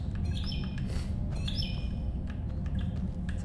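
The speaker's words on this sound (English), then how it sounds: "It's a pleasant bird chirp." A bird in the video game Skyrim, in the Forgotten City mod, gives a few faint, high, quick chirps in two short bursts over a steady low ambient rumble.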